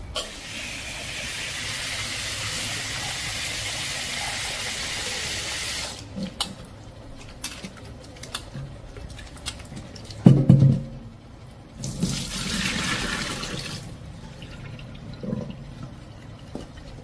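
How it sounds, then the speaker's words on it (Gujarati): Water runs steadily from a tap over lemons being washed, a continuous hissing rush that breaks into uneven splashes and pauses as the fruit is handled, with a few dull knocks near the sink. "લીંબુ લીધા છે મેં લીંબુને ધોઈ લઉં છું"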